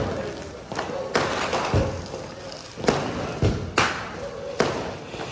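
Diwali firecrackers bursting near a family celebration, several sharp loud bangs spaced a second or so apart over a steady noisy background, with people talking.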